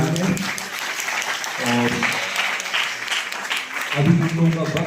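A college hall audience of students applauds at a peace-themed event, a sustained wash of clapping heard under someone speaking over a microphone.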